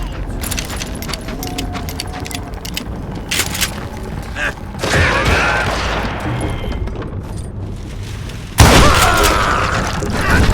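Gunfire from the western shooter Call of Juarez Gunslinger, loud bursts and booms, with a sharp blast near the end, over busy game noise and talk.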